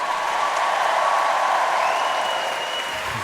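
A stand-up comedy audience breaks into sustained applause, a dense, even wash of clapping from a large crowd that holds steady and tapers slightly at the end.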